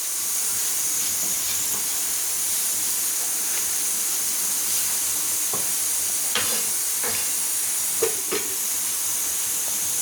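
Spice-coated brinjal frying in a spoonful of oil in a pan on the stove, giving a steady close hiss and sizzle with a few soft stirring clicks and scrapes, no talking.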